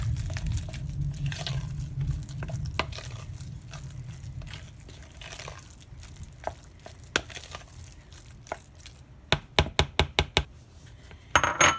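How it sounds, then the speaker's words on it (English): Egg salad is mixed with mayonnaise using a big spoon in a bowl, soft wet squishing and stirring at first, then a run of sharp spoon taps and clinks against the bowl toward the end, close and fairly quiet. "I can use the bigger spoon to mix"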